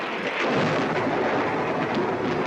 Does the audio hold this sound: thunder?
yes